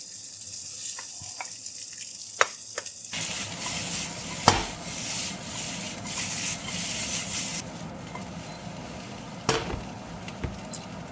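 Potatoes sizzle and crackle in hot clarified butter in a kitchen pan, a steady loud hiss with scattered pops and a few stirring scrapes and clinks.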